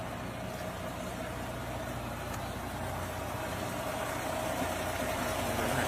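A truck engine idles in a steady, continuous low drone, moderately loud, holding constant with a slight rise toward the end and no voices over it.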